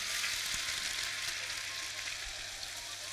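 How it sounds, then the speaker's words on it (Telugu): A paste of onion and dried red chilies frying in a pan for a fish curry gives a steady, fairly quiet hiss of sizzling that holds even throughout, with a few faint stirring bumps and no voices. "సో ఈ పేస్ట్ని మనం దీంట్లో వేసేద్దామండి"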